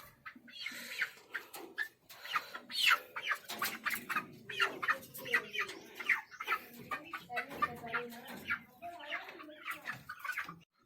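Chickens clucking around a house, a busy run of short clucks and calls across the whole stretch, close and fairly loud, with talking mixed in.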